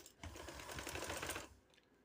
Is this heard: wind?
no